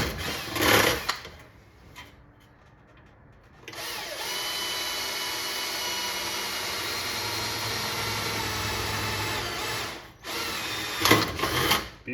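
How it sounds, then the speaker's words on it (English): An electric drill bores joystick holes through arcade cabinet sheet metal, a steady loud whine running about six seconds after a short earlier burst, with the bit grinding through the metal up close. "The last 2 joystick holes. Make sure I don't drill into the counter here."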